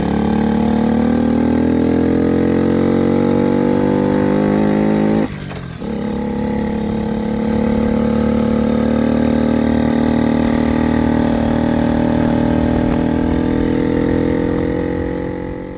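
A 1965 Honda Cub motorcycle engine runs steadily at a loud, close idle, its pitch creeping up gradually, with a brief dip and stumble partway through before it settles back into a continuous hum.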